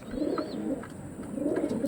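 Pure white tournament-quality pigeons coo softly nearby in repeated low, throaty phrases, with a faint high whistle in the background and no speech.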